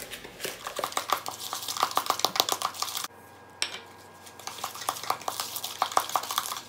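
A spoon or utensil scrapes and clinks rhythmically in a bowl as sugar is stirred into butter and flour for tart dough, close and busy, with a brief pause midway.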